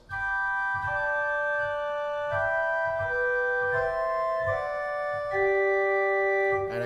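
A pipe organ's 2-foot stop sounds alone, playing a slow sequence of high, pure sustained notes one after another, steady and clear with no voices.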